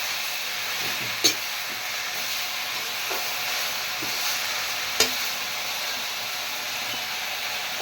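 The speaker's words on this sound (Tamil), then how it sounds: "நல்லா வதக்கிடு" Sugar pumpkin leaves sauté in a pan with a steady, even sizzling hiss, broken by two sharp clinks of a utensil striking the pan and a few soft stirring scrapes.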